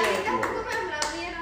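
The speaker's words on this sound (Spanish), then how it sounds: "Aplaude por tres partes." Hands clap in a few quick sharp bursts during a livestream from Barcelona, fairly close, with voices talking underneath.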